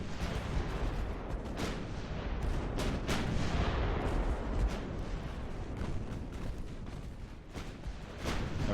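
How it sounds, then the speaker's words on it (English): Big naval guns firing during a fleet battle in the warship game Ultimate Admiral: Dreadnoughts, a steady distant rumble punctuated by repeated sharp booming shots at irregular intervals. "with this many big guns firing on me"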